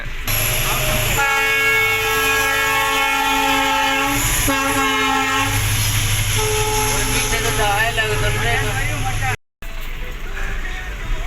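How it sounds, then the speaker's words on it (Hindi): A passenger train rushes past a rural level crossing near Surendranagar while its horn sounds in long, loud blasts. Heavy rumbling and clatter of the wagons run throughout, and a person speaks briefly near the end. "तो ट्रेन निकल चुकी है और हम कर रहे हैं फाटक क्रॉस।"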